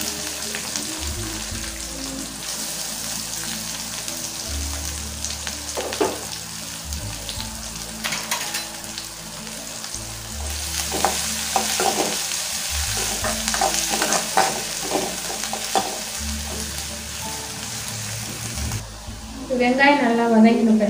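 Chopped medium onion frying with cumin and curry leaves in a pan, a steady close sizzle with occasional spatula stirs and a low background hum throughout.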